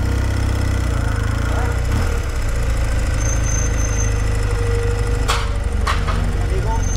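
Motorcycle engine idling at a park entrance in Costa Rica, a loud steady low rumble running throughout with a couple of brief sharp clicks near the end.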